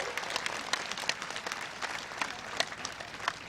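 A crowd at a public rally in Indore claps steadily, a moderately distant, even patter of many hands with occasional sharper claps standing out.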